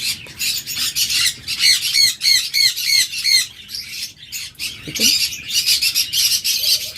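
A pair of caged birds at a bird market, cockatiels or budgerigars, squawk and chirp in loud, rapid bursts close by, with brief pauses between flurries of shrill calls.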